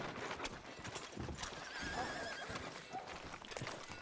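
A horse in Red Dead Redemption 2 whinnies, with steady clip-clopping hooves on a town street, close and fairly quiet, with a faint voice underneath.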